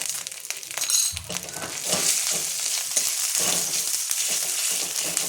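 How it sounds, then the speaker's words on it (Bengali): Ground fenugreek and ginger paste frying in a pan, a steady close sizzle with a few scraping stirs and light clinks early on, no talk. "দেখো আদা আর মেথি বাটাটা আমার ভেজে নিয়েছি হালকা"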